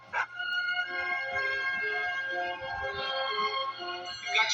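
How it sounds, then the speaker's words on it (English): A trained attack dog barking and growling in a tense sustained burst, loud and close, with sharper yelps at the start and end. "A dog trained by professionals to attack people."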